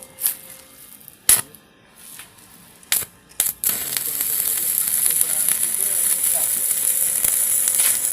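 Arc welding with a 3.2 mm rod at about 200 amps on a Mitsushi 350-ampere welder: after a few sharp clicks and pops, a steady, loud crackling sizzle sets in and runs on continuously.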